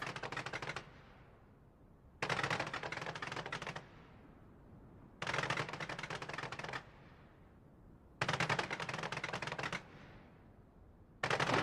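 Fireworks over the river in London crackle in dense, rapid bursts lasting a couple of seconds each, with quieter rumbling gaps between repeated volleys and no voices heard.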